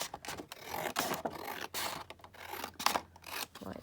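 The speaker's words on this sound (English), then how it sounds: "I'm just going to cut this off here" Scissors cutting through paper for a junk journal, close and quiet, a string of short crisp snips and scraping rubs with irregular rhythm.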